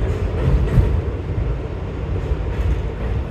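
A New York subway train, an 11-car set about 510 feet long, pulls into 59th Street station on a ride from Long Island City to the Upper East Side, giving a steady, loud low rumble and rattle throughout with no voices.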